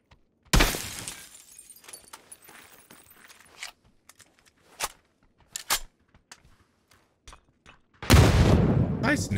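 A grenade blast in PUBG lands as a sharp, loud burst with debris-like crackle near the start. Scattered small impacts and clicks follow, then a second heavy, roaring burst near the end.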